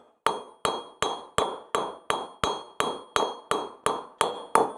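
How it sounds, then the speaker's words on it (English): A hammer strikes a silver ingot on a metal block thirteen times in a steady, evenly spaced rhythm, each blow a sharp, bright ringing clang that decays before the next, loud and close, with no voices. "Now, whenever I get to the edges, I'm going to lighten up the blows by not raising the hammer as far."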